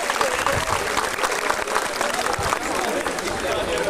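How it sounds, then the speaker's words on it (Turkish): An audience claps at a graduates' reunion meeting. The applause is a dense, steady roar of many hands that carries through the whole stretch, with faint crowd murmur beneath it. "Alkışlar lütfen onlara gelsin."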